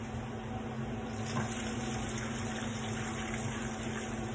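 Vegetable stock pours steadily in a continuous, even gush at close range, with no voices.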